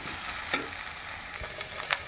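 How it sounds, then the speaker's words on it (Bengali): Maggi noodles seasoned with salt and pepper fry in a pan with a faint, steady sizzle, broken by a couple of soft clicks from stirring. "আমি নুনও দিয়েছি, গোলমরিচও দিয়েছি, দিয়ে এবার ভালো করে এটা ভেজে নেব"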